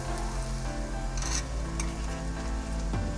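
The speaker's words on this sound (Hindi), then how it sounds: "तो अब मैं इसको 3-4 मिनट के लिए इसको फ्राई करूँगी।" Onions frying in a pan for a mixed vegetable dish of potato, peas and carrot, giving a steady sizzle with a few clinks and stirring sounds over a constant hum.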